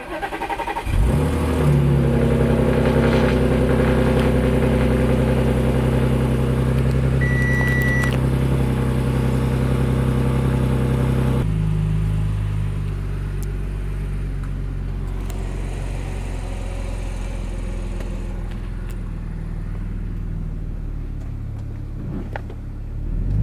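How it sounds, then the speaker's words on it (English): An Audi S4 engine cold-starts and settles into a loud, steady idle with a droning hum, then the tone drops and softens partway through as it warms; no talking. "right now I'm just trying to get the engine warmed up"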